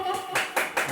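An audience at a kirtan gathering in Dhanora claps in unison, three sharp, evenly spaced bursts of group clapping close by.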